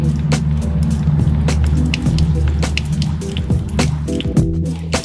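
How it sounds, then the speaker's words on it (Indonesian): Orchids freed from a flask are rinsed one by one under running water to clear off the growing medium, with irregular splashes, drips and squishy handling noises close by. "sekarang waktunya kita mencuci anggreknya ini dengan air mengalir agar medianya hilang"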